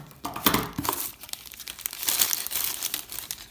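Plastic packaging of a flower parcel crinkles and rustles up close as it is opened, with irregular crackling bursts and tearing-like scrunches.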